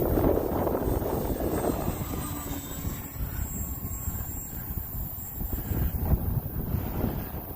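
Model airplane on skis flying over snow, a steady engine drone with wind rush against the microphone, fairly loud and continuous.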